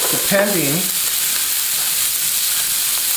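Beef fillet searing in a smoking-hot pan, giving a loud, continuous sizzle, with a brief voice-like tone near the start.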